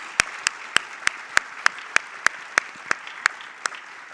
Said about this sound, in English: Can everyone please give them a big round of applause?